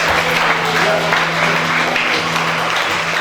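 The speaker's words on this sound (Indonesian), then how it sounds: "Oke, boleh kasih tepuk tangan." Loud, continuous clapping from wedding guests during a church marriage ceremony, close and steady throughout, with a low electrical hum running beneath and faint voices in the crowd.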